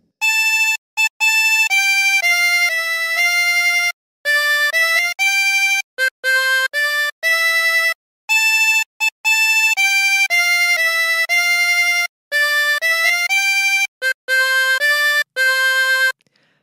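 A slow harmonica melody, Hark the Herald Angels Sing, of sustained reedy notes played alone, each note held then broken by short pauses, with clean overtones.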